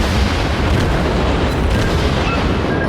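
Cruiser gunfire in World of Warships from a Tier IV Phoenix, a dense rumbling barrage of heavy booms rolling continuously and loud, with no voices.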